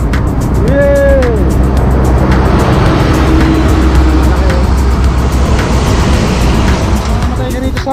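Large trucks roar past on a road during a long-distance bike ride, a loud continuous engine and tire rumble close by with a brief horn-like tone early on and wind noise throughout.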